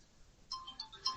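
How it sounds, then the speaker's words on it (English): A mobile phone ringtone sounds in a podcast room as a few short, faint, evenly spaced electronic beeps over a quiet background. "That's my phone ringing."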